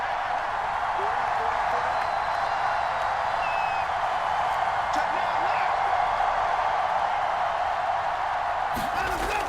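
A steady, loud stadium crowd roar in Madden NFL 23 swells evenly through the whole stretch as fans get into a big third-down play, with no break in the wash of cheering.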